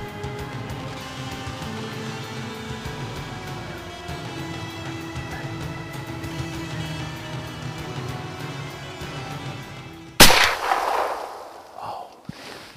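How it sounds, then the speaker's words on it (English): A single rifle shot fired at a doe in an open field during a hunt: one sudden sharp crack near the end, rolling off into a fading echo over quiet outdoor background. "the doe they were looking for decided to feed into range and then give Nathan the shot he was looking for"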